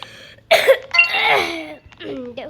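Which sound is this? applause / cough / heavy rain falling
cough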